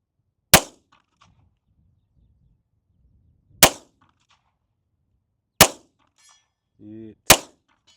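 Four sharp, loud CZ 75 TS2 pistol shots fired at a target 100 yards out, spaced a couple of seconds apart, with a brief metallic ring of a hit between them and a short voice before the last shot.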